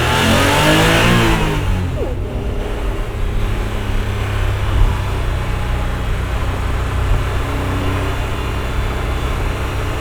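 The engine of Miss Scarlet, a roughly 30-year-old car, runs and revs loudly up close, a steady broadband roar with a rise in pitch early on, then a sustained drone.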